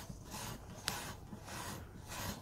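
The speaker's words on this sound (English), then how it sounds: "I'm going to clean it up with some wire wool" Wire wool scrubs a water-heater heating element in slow, rhythmic back-and-forth strokes, a faint close rasping repeated about four times.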